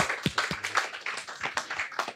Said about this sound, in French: Alors, vous pouvez vous applaudir vous aussi,